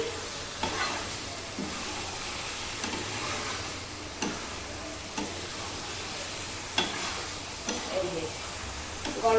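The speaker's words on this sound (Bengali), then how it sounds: "গরম মশলা দিয়ে একটু নাড়ি।" Keema with garam masala being stirred in a pan, a soft sizzle underneath with repeated scraping strokes of the spoon at irregular intervals, close and moderate in level.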